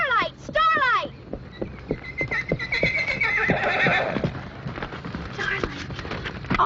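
Starlight, a pregnant mare, lets out a loud, clear whinny at the start, followed by snorts and shuffling hooves while voices talk nearby.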